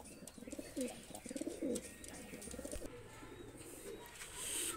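Pigeons for sale coo softly in a low, rolling rhythm, repeated bursts close by but faint, with light background noise and no talk.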